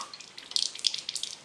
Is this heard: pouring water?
yes